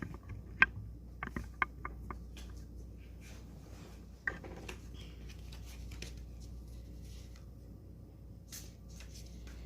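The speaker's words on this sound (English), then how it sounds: "Shuffle up my music deck here." A deck of tarot cards being shuffled, heard as a quick burst of crisp riffling snaps and flutters early on, then soft intermittent rustles over a steady low room hum.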